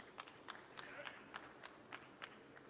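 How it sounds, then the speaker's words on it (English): A single person claps alone at the Heisman Trophy celebration in the College Football 27 video game: about ten faint, evenly spaced claps over quiet room noise. "Why is it only one person Road clapping?"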